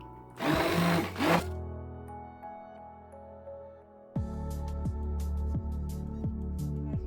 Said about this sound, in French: Je commence à la mixer. Je veux que ma purée soit lisse pour mon hachis parmentier.